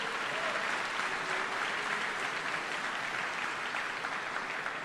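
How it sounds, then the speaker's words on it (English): Sustained applause from a ceremony audience at a military change of command, dense steady clapping filling the whole stretch without pause. "let's give them a round of applause for being here."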